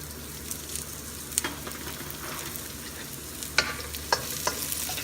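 Onions cook in olive oil in a pan for pork kare-kare, giving a soft continuous sizzle with scattered sharp crackles and pops that stand out now and then.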